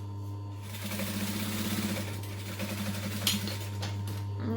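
A sewing machine runs steadily, tacking fabric for a clutch bag about an eighth of an inch from the edge, a close, continuous mechanical hum and rapid needle rattle with a small clack near the end.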